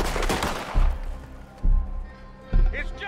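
Heavy gunshots ring out in a Red Dead Redemption 2 duel, three booming reports about a second apart, each with a deep thud and decaying tail over game music and ambience.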